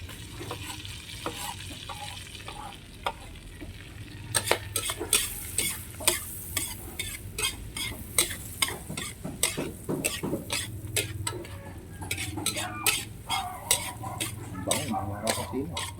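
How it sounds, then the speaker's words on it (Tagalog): Garlic and aromatics sauté in a hot pan for buttered mussels, a steady sizzle with frequent scraping and stirring clinks from a utensil against the pan, close and fairly loud throughout. "lalagay na natin mga panggisa natin"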